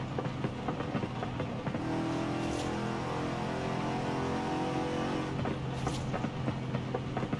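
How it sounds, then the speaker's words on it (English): In Forza Horizon 5, an Aston Martin DBS engine is held at full throttle while still cold, a loud, sustained drone with steady harmonic tones and two brief, sharp bursts partway through. "the car hasn't warmed up yet, so I'm just here flooring it"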